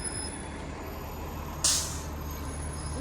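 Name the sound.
Disney Mickey buses driving past with air brakes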